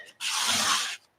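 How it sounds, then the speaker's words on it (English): A credit card scrapes thin acrylic paint across a postcard in one steady, close rasping stroke lasting just under a second, with brief quiet before and after. "I'm going to grab a credit card and I'm just going to bring it down that way. And you can scrape it pretty thin"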